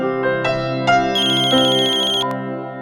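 Mobile phone ringtone ringing loudly and close, a bright melodic tune of repeated tones that builds into a sustained ringing phrase, heard alone without speech.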